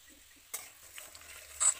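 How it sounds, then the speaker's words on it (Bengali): Dry red chillies, chopped garlic and ginger stirred in hot oil for chilli chicken, a few quiet spatula scrapes and taps against the pan over a faint low sizzle. "এই যে দেখুন আমাদের নাড়া পর্ব চলছে"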